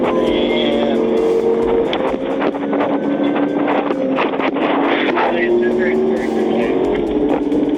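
A white motorcycle's revving engine whines and shifts pitch continuously during a police chase on Georgia highway 400, with wind buffeting and a voice talking over it.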